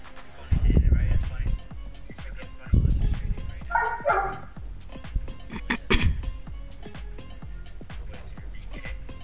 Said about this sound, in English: He do be barking though.